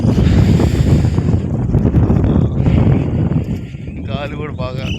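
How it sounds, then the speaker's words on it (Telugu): Strong wind blows through a rainy garden, buffeting the microphone with loud, gusty rushing, while a person talks over it. "గాలి కూడా బాగా వస్తుంది"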